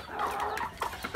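A hen kept at home with a bent, crooked leg clucks in a few short, close bursts over a noisy farmyard background.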